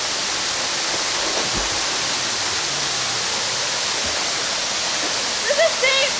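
A secluded waterfall in Puerto Rico pours in a steady, loud broadband roar that fills the whole stretch, with a few faint splashes and a brief higher sound near the end.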